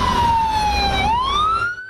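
Ambulance siren wailing loud and near without pause, its pitch dipping and then rising again, in the setting of an armed clash at a Palestinian refugee camp in Lebanon.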